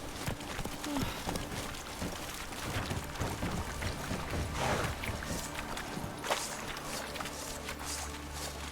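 Hooves of a horse clip-clop along a road in The Witcher 3, a steady galloping rhythm mixed with game ambience and faint voices.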